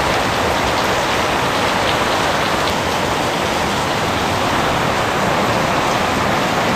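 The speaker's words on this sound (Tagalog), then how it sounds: "Napakalakas ng ulan." Heavy rain pours down steadily, a dense, continuous hiss of drops drumming on surfaces with no breaks or voices.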